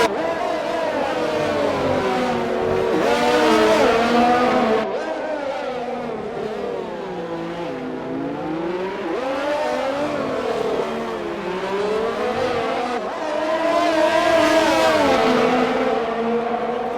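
Race car engines in a Monaco racing video game rev hard and bounce repeatedly off the limiter through the gears, loud and continuous for the whole stretch, with rising and falling pitch sweeps and no talk over them.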